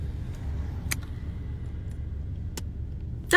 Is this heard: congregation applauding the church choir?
no